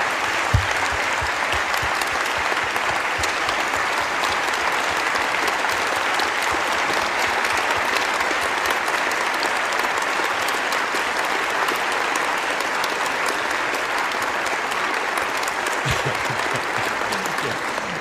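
A large audience gives a standing ovation at a gospel music concert, with sustained dense clapping and scattered cheers holding steady and loud throughout.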